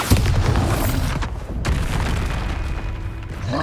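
A Bombarda blasting spell exploding in the video game Hogwarts Legacy: a loud booming burst followed by a sustained rumbling roar that slowly fades.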